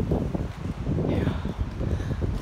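Strong, crazy outdoor wind batters the microphone with loud, continuous low rumbling and gusting throughout, close and overpowering.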